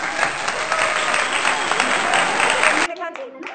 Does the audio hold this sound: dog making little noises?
no